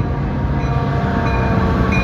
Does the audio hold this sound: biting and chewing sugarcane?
no